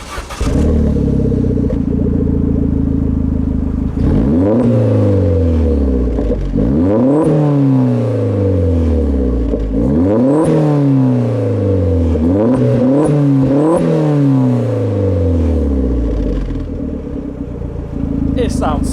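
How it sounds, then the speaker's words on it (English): A Vauxhall Astra VXR engine heard from the rear, idling then blipped in a series of sharp revs that rise and fall back several times, loud and close with crackles from the exhaust. "Now I've showed you what the car sounds like at the back."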